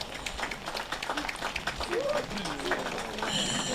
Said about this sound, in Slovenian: topel aplavz